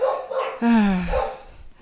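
A dog gives a few barks near an empty house after a tropical storm, with a sharper bark in the middle, close and fairly loud.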